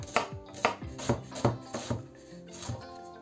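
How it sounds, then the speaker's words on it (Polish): A knife chops half an onion into fine dice on a board, about eight crisp, evenly spaced thuds close by, with no voice. "Bierzemy sobie cebulę, użyjemy tylko połówki i kroimy ją w drobną kostkę."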